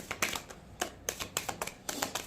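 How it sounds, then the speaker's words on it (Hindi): A deck of tarot cards is shuffled by hand, close up. It gives a string of short, crisp riffling bursts, about a dozen quick flicks in uneven succession over a quiet background. "जब तक मैं कार्ड शफल करती हूँ।"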